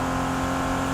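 A Bentley Continental's W12 engine in the Test Drive Unlimited Solar Crown racing game hums as a steady, dense drone, loud and continuous with no break.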